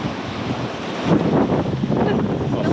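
Strong wind gust buffeting a sailing boat, a loud broadband roar against the microphone that swells midway with water rushing along the hull, continuous throughout.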